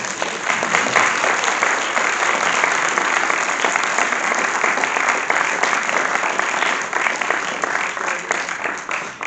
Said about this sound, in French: Je pense que vous méritez encore d'être applaudi.